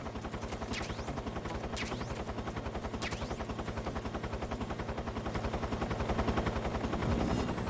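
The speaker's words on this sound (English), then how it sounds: "That helicopter is so fucking loud." A helicopter in the video game Metal Gear Solid 3 gives a loud, rapid, steady rotor chop that grows slightly stronger toward the end, with a few sharp sweeping sounds early on.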